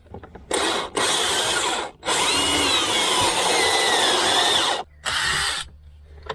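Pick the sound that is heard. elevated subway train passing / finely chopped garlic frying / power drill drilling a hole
power drill drilling a hole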